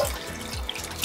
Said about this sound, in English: Just under some running water